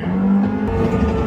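Rival race car engines roar past in the racing video game Gran Turismo 7, played on a cinema sound system; a loud, dense engine rumble that swells briefly as cars overtake, with no voices.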